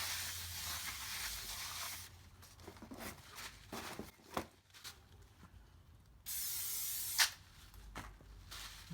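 Bursts of brake cleaner spray hiss on and off onto a 2012-2017 Toyota Camry front brake rotor, one long steady blast near the end, between quieter rubbing and handling noises.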